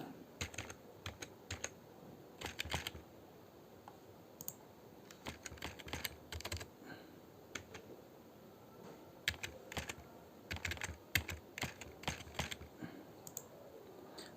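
A password made of a PAN card number and a date of birth is typed on a computer keyboard, with irregular bursts of close key clicks and short pauses between them, and no talking.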